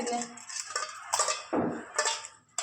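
Plates being handled in a home kitchen, with several distinct clinks and clatters of dishes and cutlery in quick, uneven succession, close and fairly loud.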